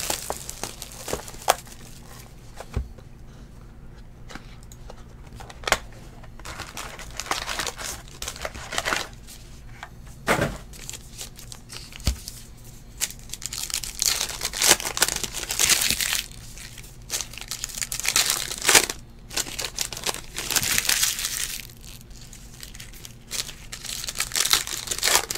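2018 Unparalleled football trading card packs are torn open with repeated crinkling foil, sharp rips and crumpling wrappers, close and busy throughout with no talk.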